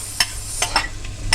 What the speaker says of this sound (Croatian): ja sam isjekla luk i sada ću ga staviti u ovaj moj lonac.